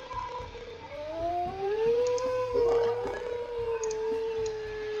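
A wolf howls in the WolfQuest: Anniversary Edition game, one long, fairly quiet call that slides upward and then holds, over a low background hum.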